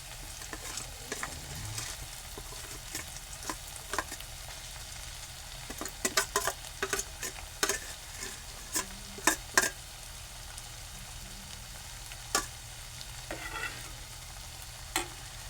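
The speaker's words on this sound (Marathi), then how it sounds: "आता मी हे परतून घेतो तर मी हे परत परतून घेणार आहे वाटण टाकलं याच्यामध्ये" Ground masala paste being sautéed with cooked onion and tomato in a pan, a soft low sizzle broken by repeated scraping and clinking strokes of a spoon, with no voices over it.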